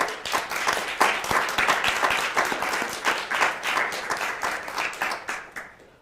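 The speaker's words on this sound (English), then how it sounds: "let's just take a moment to acknowledge that with some applause" Sustained applause from an audience at a certificate ceremony, dense overlapping claps holding steady for several seconds before tapering off near the end.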